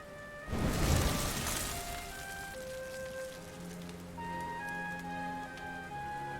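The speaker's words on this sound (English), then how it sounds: "Looks like the rain's dying down." Rain falls in the video game Dragon Quest XI, a steady soft hiss and patter that swells briefly near the start, with gentle melodic game music playing over it.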